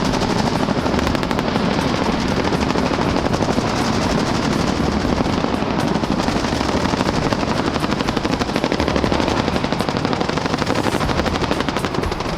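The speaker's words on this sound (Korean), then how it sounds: "공중에는 코브라 헬기가 나타났다. 명품 무기로 잘 알려진 전투용 헬기다." A Cobra attack helicopter flies overhead, its rotor blades chopping in a rapid, loud, continuous rhythmic thudding that stays steady throughout.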